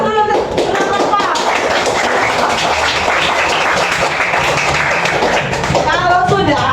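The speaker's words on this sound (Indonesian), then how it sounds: "Beri tepuk tangan aku dulu untuk kelompok." A classroom group claps together in sustained, lively applause for several seconds, with voices mixed into the clapping.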